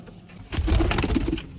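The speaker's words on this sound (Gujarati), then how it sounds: "તો ફ્રેન્ડ તમે જોઈ રહ્યા છો કબૂતર." Pigeons coo close by in an enclosure, a short burst of soft throaty, rolling calls rising in loudness before fading, with no talk over them.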